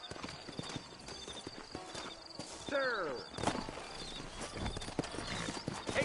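Horses' hooves clip-clop in a steady walking rhythm in Red Dead Redemption, in a frontier town in New Ulster, with a brief neigh, under a man's drawled speech and ambient outdoor noise.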